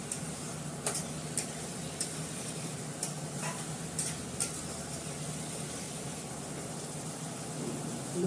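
A curry with yogurt is stirred in an oily pan, a steady sizzling hiss running throughout with faint scrapes and light ticks from the spoon against the pan, heard up close with no talking.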